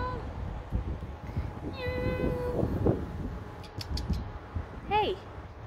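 A homeless neighbourhood cat meows a few times, short distinct calls including a rising and falling meow near the end, over light background noise and some movement sounds.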